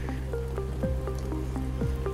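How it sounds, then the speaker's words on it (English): Rain falls in the video game Dreams, a soft, steady pattering of drops with repeated drips and light splashes, fairly quiet and continuous with no speech. "The rain effects here, so impressive."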